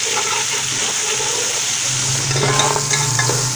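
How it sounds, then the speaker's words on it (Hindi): Tomatoes, ginger and garlic sizzle and crackle in a hot pan as they are stirred, a loud, close, continuous frying hiss. "150 ग्राम टमाटर, 1 चम्मच भर के पिसा हुआ अदरक और लहसुन फ्राई करेंगे"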